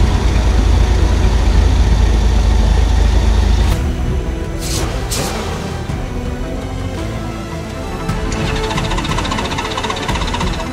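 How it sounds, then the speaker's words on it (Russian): A car engine cold-starting after two days sitting unused, with a loud, steady low rumble that eases into a rougher idle with some knocking, close by and alone. "Грубо говоря, холодный старт."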